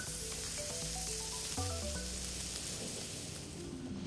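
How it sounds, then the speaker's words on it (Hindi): Butter sizzles in a hot pan before the meat goes in. A steady, bright crackling hiss runs throughout, close and fairly quiet, with clinking utensil tones over it and no talking. "मीट को सीजन करने के बाद पैन में हम थोड़ा बटर डालेंगे।"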